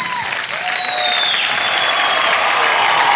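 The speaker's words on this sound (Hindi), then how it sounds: "जोरदार तालियां सानू जी के लिए" Studio audience applauding a contestant on a televised talent show, India's Got Talent, a steady dense wash of clapping filling the whole stretch, loud and continuous, with a faint tone sweeping through the background.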